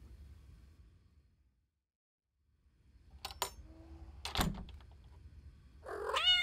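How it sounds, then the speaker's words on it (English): A cat gives one short, faint meow at the end of a quiet stretch, after a few soft knocks and thumps. "Oh, your cat is beautiful."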